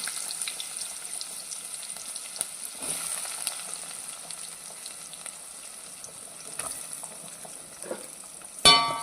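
Chopped onion fries in oil with mustard seeds and cumin, a soft, steady sizzle with occasional crackles and spoon strokes, ending in a sudden louder clatter.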